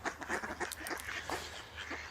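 Ducks by a river quacking in a quick, busy run of calls, fairly faint and a little distant, with a low rumble of the outdoors beneath.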